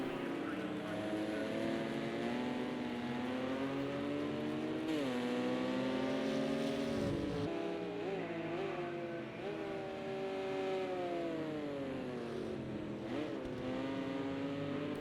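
Racing car engines in Project CARS 2 during a 1998 FIA GT Championship race at Oschersleben, a Porsche among them, droning and revving continuously with gear shifts and pitch swoops, under steady commentary.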